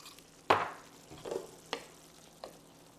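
Sesame seeds are stirred into Korean beef frying in a pan, giving a soft sizzle broken by a few scraping stir strokes, quiet and close.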